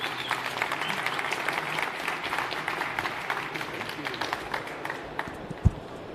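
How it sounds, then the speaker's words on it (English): Audience at a tech-conference keynote breaking into applause, with dense clapping and a few louder close claps that gradually thin out toward the end. "Please give a round of applause for Mr."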